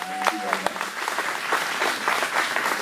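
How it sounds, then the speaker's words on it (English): Applause from an audience at a chamber of commerce meeting, a steady patter of many hands clapping, fairly close and loud, with a voice speaking briefly at the start. "Let's give her applause as she walks up."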